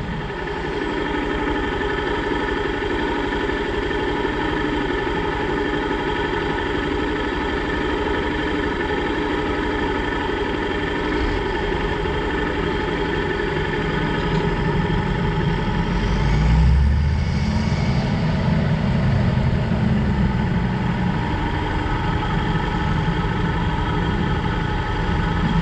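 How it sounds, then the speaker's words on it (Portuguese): Tractor and farm machinery engine running steadily outdoors on a farm, a continuous low droning rumble that swells louder near the middle as a machine passes close by. "Trator maquinário, só trator maquinário."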